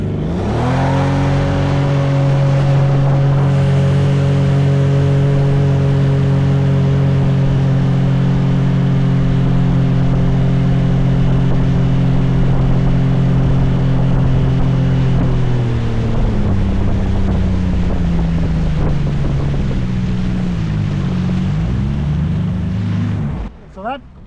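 A lowered outboard motor drives an aluminum dinghy, droning loudly and steadily close to the microphone, then dropping in pitch and wavering near the end, with wind rush and water noise throughout.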